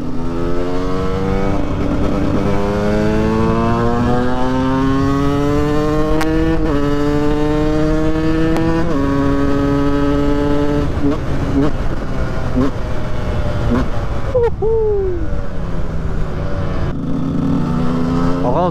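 A KTM 125 EXC and a Yamaha MT07 riding together on a road, with engine notes rising and falling through gear changes, sustained and fairly close, a high-revving whine over a deeper drone.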